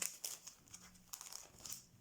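Crinkly paper packaging being carefully pulled open, a close, quiet run of rustles and crackles in short uneven bursts, with no one talking.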